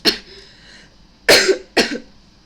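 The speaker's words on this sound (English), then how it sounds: "this is like the mild version of my coughing." Three coughs from one person, trying to keep it mild: a short cough first, then two stronger, close-range coughs about half a second apart, with quiet pauses between.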